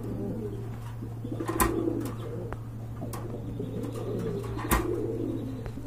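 A pair of big Andalusian-colored pigeons coo in soft, repeated low bursts over a steady background hum, with two brief louder knocks or flaps breaking in.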